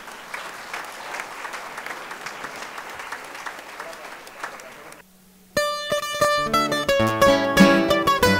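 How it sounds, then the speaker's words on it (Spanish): An audience at a verse-improvisers' show in Las Vegas, Valsequillo, claps in a dense burst for about five seconds before lively music with strong rhythmic accents takes over. "Un aplauso para Pedrito"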